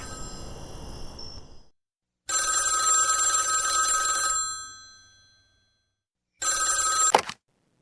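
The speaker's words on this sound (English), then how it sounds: "That is my telephone ringing, isn't it?" An old telephone bell rings in loud, close bursts: one long ring, a pause, then a shorter ring that cuts off abruptly.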